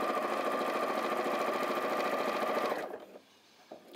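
A sewing machine stitches steadily while quilting with a walking foot, giving a loud, even mechanical whir that runs for nearly three seconds and then stops abruptly, leaving near silence with a faint click.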